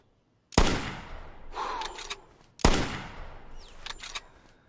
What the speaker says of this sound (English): We're going to shoot this one and then run over the hill.